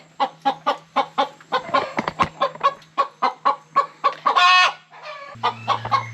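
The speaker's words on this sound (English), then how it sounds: "all the other chickens have gotten riled up" Chickens cluck in a steady, rapid series of sharp calls, with one louder squawk near the end, close and busy.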